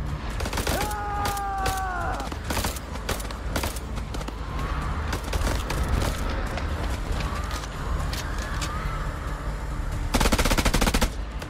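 Video game gunfire in The Dark Pictures, with rapid machine-gun bursts and scattered single shots crackling throughout, plus mechanical creaks and a whining tone, ending in a loud sustained burst.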